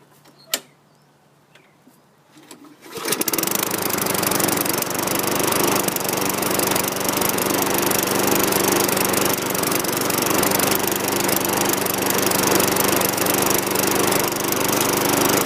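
A 2003 Toro Recycler walk-behind lawn mower starts after a few faint knocks and settles into a loud, steady small-engine roar that runs on without a break, close by and with no voices.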